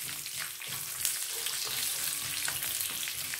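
Slit cashews fry in hot oil in a pan for potato vada, giving a steady, close, soft sizzle with faint crackles and no talk.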